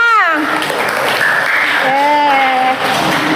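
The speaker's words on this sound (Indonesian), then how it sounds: "beri tepuk tangan untuk kelompok 5" Brief classroom applause for a student group, steady clapping from children with young voices speaking and calling out over it throughout.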